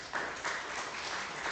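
Applause from the audience fills a committee hearing room on election procedures, a steady, faint wash of clapping that lasts the whole moment with no voices over it.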